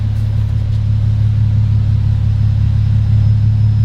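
An Infiniti G35 shifts under power during an AirLift 3P air suspension calibration, giving a steady, loud low rumble of engine and motor that holds evenly throughout with no talking.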